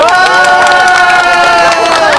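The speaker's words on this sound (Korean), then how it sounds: "이내 설레임과 숨죽임은 사라지고 새천년 해맞이객들의 환호성이 터져나옵니다." Crowds gathered outdoors in Korea to watch the first sunrise of the new millennium break into loud, sustained cheering and shouting, many voices rising together close by.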